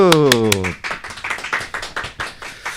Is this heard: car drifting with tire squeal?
no